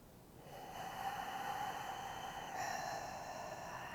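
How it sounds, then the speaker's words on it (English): One long, deep inhale drawn through the nose with the mouth closed, a soft airy rush that swells and holds steady for several seconds. "So I'll go big inhale with my mouth closed."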